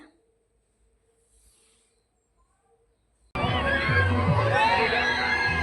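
After a few seconds of near silence, a loud crowd suddenly erupts in shouting and cheering, many voices yelling together up close.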